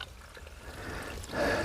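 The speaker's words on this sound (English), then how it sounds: "Just a little tiny stream trickling on down." A tiny stream on the Appalachian Trail trickles with a soft, steady wash of water, faint and close, swelling slightly toward the end, with no voices.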